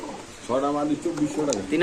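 Pigeons cooing at a bird sale, a few short warbling coos up close, heard mixed with people talking nearby.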